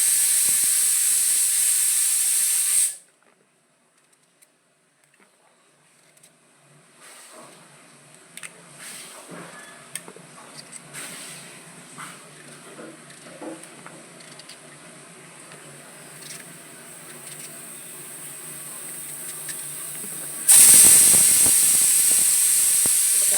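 A pressure cooker cooking lentils lets out a loud hissing steam whistle, then falls quiet with faint clatter before the shrill whistle bursts again near the end.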